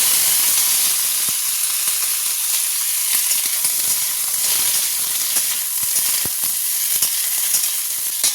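Papaya, ridge gourd, pointed gourd, green chilli and tomato sizzling together in hot oil: a loud, close, continuous hissing fry with scattered sharp crackles and pops, and no voices.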